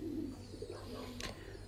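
White Mi Mac pigeons coo softly in a low, throaty murmur, a few faint calls close by over a quiet background hum, with a brief rustle near the end.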